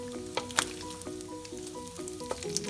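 Bacon frying in a pan for a BLT sandwich, a steady close sizzle with sharp crackles and pops, behind a faint run of tonal music or game beeps.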